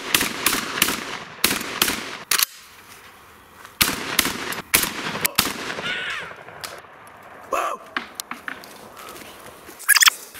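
Panzer BP12 shotgun with a 20-round magazine fires in loud, sharp bursts of blasts, several quick shots clustered together with short pauses between volleys, sounding close and outdoors.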